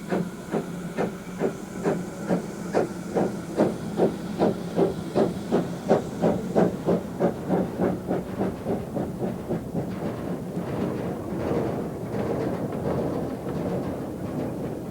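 Engine number 2, the Countess, a Welsh narrow-gauge steam locomotive rebuilt with Swindon boilers, chuffs loudly with a steady exhaust beat that quickens as it pulls away, then fades into a continuous hiss and rumble of rolling wheels.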